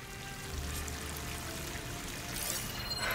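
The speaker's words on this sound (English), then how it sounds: "That waterfall must be coming from somewhere." A waterfall in the video game Horizon Forbidden West gives a faint, steady pouring rush of water that continues evenly with no voices.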